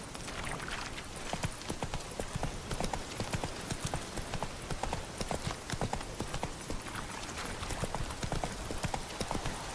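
Roach, a horse in The Witcher 3, gallops in a fast, steady rhythm of hoofbeats, loud and close, continuous throughout with no pause.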